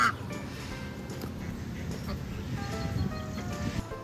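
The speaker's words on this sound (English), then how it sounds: "It's like a zombie apocalypse in the cemetery, but it's ducks." A large flock of ducks quacks in a cemetery, forming a dense, continuous chatter of many birds at moderate distance with no single call standing out.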